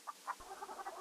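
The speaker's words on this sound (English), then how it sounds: "Charming old rooster." A rooster in the King's Quest 3 video game gives two short clucks, then a rapid run of softer clucking, fairly close and alone.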